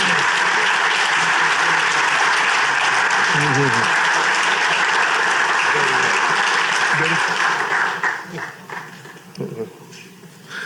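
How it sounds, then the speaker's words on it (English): A gala audience gives sustained, loud applause for honorees, which thins and fades toward the end, with scattered voices mixed into the crowd noise. "let's give another round of applause tonight for our honorees and all the honorees from the past"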